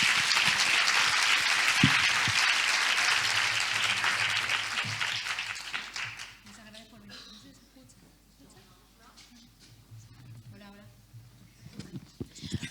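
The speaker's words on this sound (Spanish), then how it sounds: "prego vos un aplauso para Anita Botwin" Loud audience applause fills a hall at a women columnists' gathering, dense and sustained for several seconds before fading to scattered claps and room noise, with a voice beginning to speak near the end.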